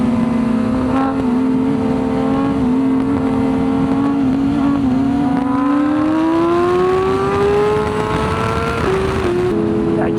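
A motorcycle engine on a group ride holds a smooth, steady drone close by, with its pitch climbing gradually through a long rev before dropping briefly near the end.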